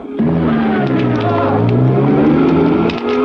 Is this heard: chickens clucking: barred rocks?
no